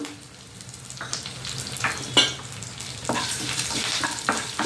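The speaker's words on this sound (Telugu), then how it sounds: "ఇప్పుడు నేను ధనియాలు, జీలకర్ర, కరివేపాకు వేసాను. తర్వాత ఎండుమిర్చి వేసాను." Coriander seeds, cumin, curry leaves and dried red chillies sizzle in oil for a Morinda leaf chutney, a steady close frying hiss broken by a few scraping stirs of a spoon.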